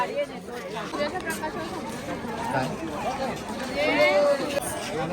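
Busy crowd chatter fills the grounds of Konark Sun Temple, many overlapping voices at mid distance forming a continuous murmur with occasional nearer voices standing out.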